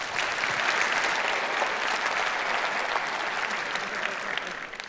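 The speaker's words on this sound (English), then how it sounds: "Give it a round of applause." Steady applause from a conference audience fills the room, a dense even wash of clapping that holds for several seconds before tapering slightly at the end.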